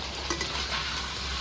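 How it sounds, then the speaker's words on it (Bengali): Ginger garlic paste sizzles in a hot pan while being stirred, a steady close frying hiss broken by a few light scrapes of the spoon, with no voices. "আদা রসুন 2-3 মিনিট ভালো করে ভেজে নিয়েছি আমি"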